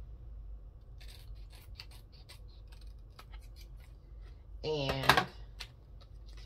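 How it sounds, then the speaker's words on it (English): Scissors cutting through a laminated paper cash envelope, faint snips and rustling followed by a louder crunchy cut near the end, with a voice talking briefly. "So what I do is I cut the bubble here and I cut here"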